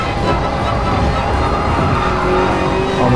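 Race car engines in Gran Turismo, including a Ferrari, a continuous loud roar of revving motors with some tire noise, close and unbroken throughout.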